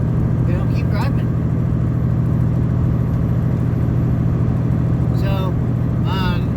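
Inside a moving car on the road, a steady low engine and road rumble drones throughout, loud and constant, with a few faint vocal sounds over it.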